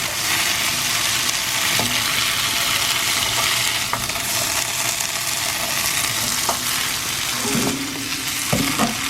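Elk tenderloin frying and simmering in a pan with white wine, a loud, steady sizzle close up, with a few faint clinks of a utensil near the end and no talking.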